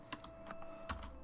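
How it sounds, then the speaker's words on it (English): Soft typing on a computer keyboard, a short, quiet burst of a few uneven key clicks close to the microphone. "What are you typing?"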